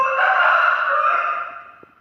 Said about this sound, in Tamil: அது முதல்ல கதவு திறந்ததும் திரை விலகுனதும் 3 முறை கூவும்